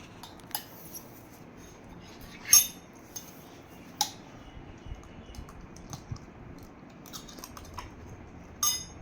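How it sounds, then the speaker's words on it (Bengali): A child plays with a metal spoon, making scattered light clinks and taps at irregular intervals, a few sharper than the rest, against a quiet room. "এখন আমি চামচ নিয়ে খেলবো"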